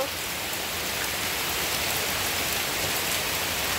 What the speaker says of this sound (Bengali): বৃষ্টি অনাসৃষ্টি হয়ে যাচ্ছে